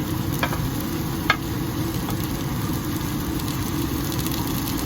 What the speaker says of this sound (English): sauteing in the onions, and then we'll add the tomatoes